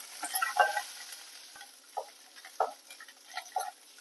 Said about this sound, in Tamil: நான் அந்த மிளகா வந்து விளக்கெண்ணெயில் வறுக்கிறேன்